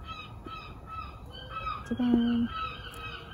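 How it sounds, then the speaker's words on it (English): Seagulls call faintly in the distance near an outdoor garden where wild blackberries are being picked. A few short cries sit over steady background noise, and a person briefly exclaims. "Can you hear the seagulls?"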